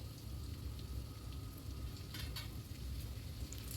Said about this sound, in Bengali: এবার যে পেঁয়াজটা গ্রেট করে রেখেছিলাম সেই পেঁয়াজটা আমি এর মধ্যে দিয়ে দিচ্ছি